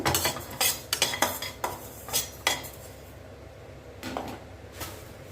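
A spoon scrapes and clinks against a hot kadai as ingredients for sesame and fresh turmeric idli podi are stirred and dry-roasted, a run of sharp metallic strokes that slows and then thins out, with no talk.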